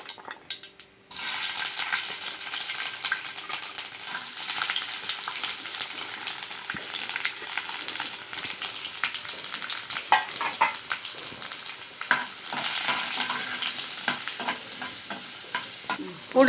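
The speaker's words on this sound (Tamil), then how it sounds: "பூண்டு நல்லா வதங்கிடுச்சு." Small chopped garlic pieces frying in hot oil for a bitter gourd pickle, a steady close sizzle that starts suddenly and runs on evenly, with occasional stirring scrapes and clinks against the pan.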